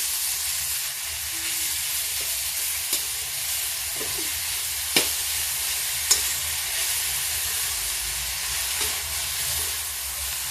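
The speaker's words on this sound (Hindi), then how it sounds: "लौकी भी भून जाएगी।" Grated bottle gourd roasts in a pan for halwa under a continuous soft sizzle and hiss, with occasional light clicks and scrapes of the spoon as it is stirred, close and unhurried, without talk.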